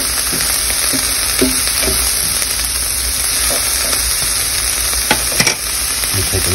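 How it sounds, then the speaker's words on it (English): A wooden spoon stirs caramelizing chunks of butternut squash in a hot pan, giving a steady close sizzle with scattered scraping clicks and soft knocks throughout. "So I'm going to go ahead and grab this wooden spoon. Reduce my heat to exactly where I want it. Stir these around."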